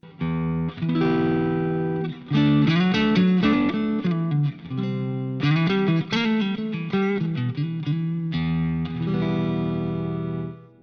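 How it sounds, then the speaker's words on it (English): Distorted electric guitar chords and riffs ring out through a Friedman DS40 Dirty Shirley amp simulator modelling a driven power amp, with a crunchy, overdriven tone, played steadily with sustained notes and no talking. "modelling the sound of a driven power amp section"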